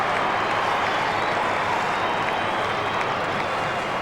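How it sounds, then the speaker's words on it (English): A football crowd at an Australian rules match between Carlton and St Kilda in 1998 applauds a goal kicked from about 50 metres, giving a steady, dense roar of clapping and cheering that holds evenly loud throughout. "Crowd likes it, and so does the goal umpire."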